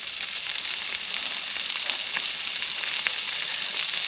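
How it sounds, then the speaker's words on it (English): Beef sizzles steadily in a hot pan at a wild campsite, a constant crackling hiss with small pops, moderately quiet and with no talking. "we'll get frying this up and add it to my noodles"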